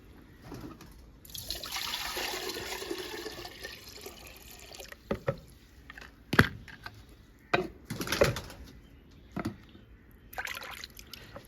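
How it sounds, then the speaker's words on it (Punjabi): Fresh water poured into a pigeons' water dish at a village pigeon loft, a steady pour lasting a few seconds, followed by scattered clatters and splashes. "ਨਵਾਂ ਹੀ ਪਾ ਦਿੰਦੇ ਪਾਣੀ"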